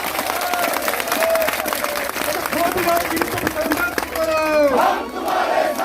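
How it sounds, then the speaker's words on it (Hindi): A crowd at a striking UPNL employees' union rally claps loudly and continuously, mixed with raised shouting voices that swell toward the end. "सबके ताली बजाओ"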